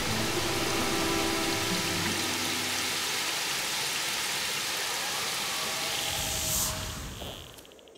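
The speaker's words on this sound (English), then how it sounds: "Getting really rainy." Steady rain in the video game Seasons After Fall, a dense, close hiss of falling drops that holds for several seconds and then thins out toward the end, with no voices.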